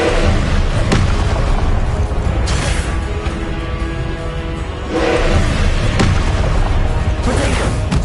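Confringo fire-spell blasts in the Hogwarts Legacy video game: a series of heavy booming explosions about every one to two seconds over a constant rumbling game background, loud and close.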